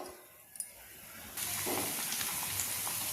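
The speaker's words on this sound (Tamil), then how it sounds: "இப்போது அடுப்பை சிம்மில் வச்சுட்டு வடை போடுங்க." Carrot kaara vadai dropped into hot oil on a low flame, a soft hiss swelling into a steady, loud broadband sizzle from about halfway through, close and continuous with no talk.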